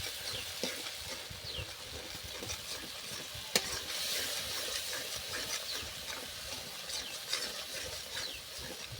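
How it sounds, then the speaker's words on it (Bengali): Poppy seed and cashew paste being stirred in a hot pan, a soft continuous sizzle with scraping spoon strokes and an occasional sharp tick, fairly quiet and close, no talking. "মগজ পোস্ত কাজু বাটাটা এইবার আমি দিয়ে দেব। দিয়ে নাড়তে থাকবো বেশ কিছুক্ষণ।"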